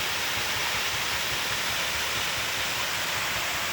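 River water flows and rushes in a steady, dense wash of noise, constant and close with no breaks or voices.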